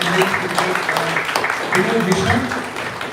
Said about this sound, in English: a big round of applause for our partner sponsor Starbucks